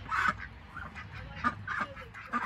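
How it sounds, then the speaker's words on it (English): Several geese on a farm honk repeatedly in short, loud bursts, fairly close, with a low background rumble. "I had to let the geese out, so it was quiet enough to talk"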